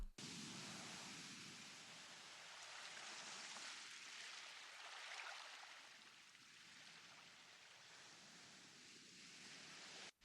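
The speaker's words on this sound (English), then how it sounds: "the other interesting sound I've got in here at the bottom is a recording of waves on a beach" Ocean waves washing onto a beach, used as a layer in a beat-style music track, form a steady, broad hiss with slow swells and dips, heard alone.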